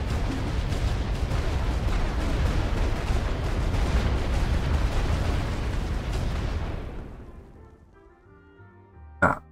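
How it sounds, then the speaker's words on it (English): Heavy artillery barrage in the World War I game The Great War, a dense, rumbling roar of overlapping blasts that fades out into quiet and then ends on one sharp report. "That was a rather effective barrage, I think."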